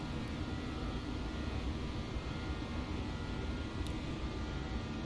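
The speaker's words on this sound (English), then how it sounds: "Hey, there's an airplane flying right over our heads." Aircraft in the X-Plane 11 simulator passing overhead, heard as a steady broadband engine roar with a faint whine at moderate, even loudness and no speech.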